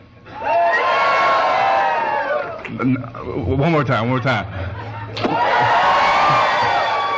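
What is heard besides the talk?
audience shouting loudly in a side-versus-side competition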